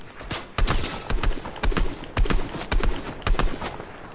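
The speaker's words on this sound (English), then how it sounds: "Oh, okay, I'm getting shot at." Gunfire rings out in an online shooter game, sharp shots cracking in rapid irregular bursts, loud and close, with no talk over them.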